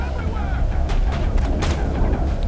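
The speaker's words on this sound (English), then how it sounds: "Let's quick check on the grenades." Grenade explosions in the Mass Effect video game, two short booming bursts over a rumbling game background, fairly close and loud, with possible voice underneath.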